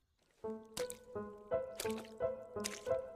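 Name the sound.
dripping sound effect in a horror story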